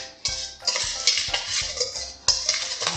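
Dry bath bomb ingredients being stirred in a bowl, with repeated scraping and clinking strokes in an uneven rhythm, close and fairly loud.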